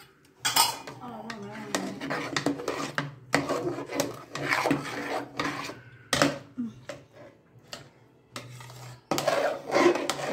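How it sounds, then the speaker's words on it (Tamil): A ladle stirs a thick tomato, sago and rice batter in a metal vessel, making repeated scraping, clanking strokes in an uneven rhythm with brief pauses, close and moderately loud. "நல்லா போல் கரண்டியால் நல்லா இது பண்ணிக்கோங்க,"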